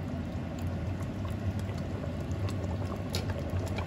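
A pot of liquid simmers on the stove, giving a steady low bubbling and burbling throughout with faint irregular pops and ticks, close and moderately quiet, with no voices.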